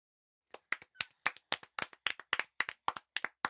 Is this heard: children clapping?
yes